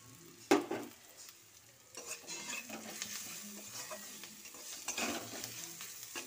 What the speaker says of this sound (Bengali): আবার নেড়ে ছেড়ে নিলাম।